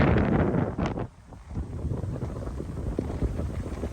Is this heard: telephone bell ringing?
no